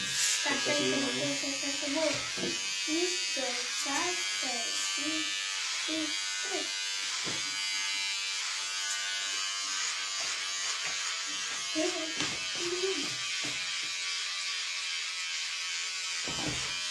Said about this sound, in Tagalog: Trimmer, saka ano, shaver.